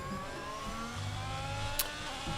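An F1 race car in an online racing game league at Portugal whines steadily at high revs, a constant buzzing engine tone with shifting pitch, no talk.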